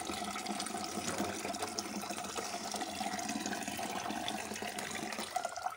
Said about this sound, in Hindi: लेकिन सारा इसका मैं पानी निकाल दूँगी पाइप में से